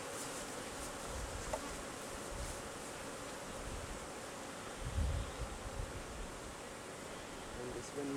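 A constant low buzzing of many bees close by, a dense hum with faint rustling and occasional soft bumps.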